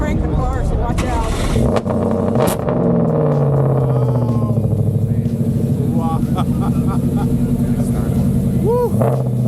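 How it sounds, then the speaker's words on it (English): A car at a busy outdoor car show cranks and fires up, the engine catching and settling into a loud, rough idle with a few revs, close by, while people talk and exclaim nearby. "he's about to crank the car, so watch out."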